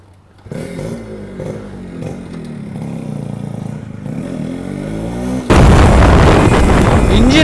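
A TVS Suzuki Shogun two-stroke motorcycle engine runs with a loud, rough, popping exhaust note that revs and shifts in pitch, then swells into a harsh, much louder roar near the end; no talking.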